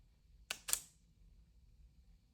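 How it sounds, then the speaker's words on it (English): A camera shutter fires in quick succession while bracketing exposures, with two or three sharp mechanical clicks packed within half a second, crisp and close in an otherwise quiet room. "the camera is taking 3 pictures: an overexposed photo, an underexposed photo, and a normal exposed photo"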